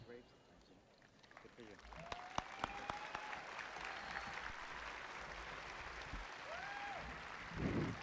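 Applause rolls through a crowd at a high school graduation ceremony, a steady wash of clapping that swells slightly near the end, with a voice speaking over it and scattered louder claps cutting through.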